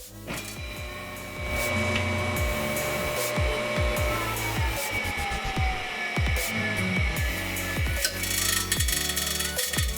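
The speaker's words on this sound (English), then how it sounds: "The motor works, but the cooling fan is rubbing on the housing." A used 230V electric motor bought at auction spins up after a few mechanical knocks and runs with a steady whine and hum, while its cooling fan rubs against the housing in a rhythmic scraping rattle.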